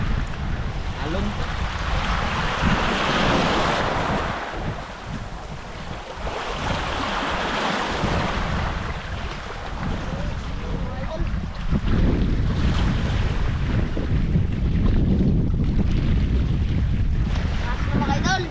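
Ocean waves wash and surge around a boat at sea, with strong wind buffeting the microphone in loud, rolling swells, and voices are heard faintly over the water.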